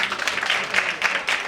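An audience at a conference valedictory ceremony claps in sustained, even applause, with many hands blending into a steady rattle.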